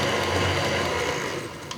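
Stand mixer whirring for a brief mix of egg yolk in a bowl while making peppernut cookies, a steady motor drone that runs continuously and eases off near the end.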